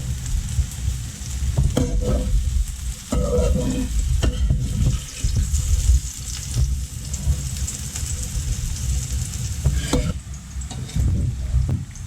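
Eggplant frying in a pan for a Korean-style salad with mushrooms and carrots, a steady close sizzle that runs throughout with some light clatter.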